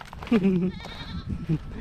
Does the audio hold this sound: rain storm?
no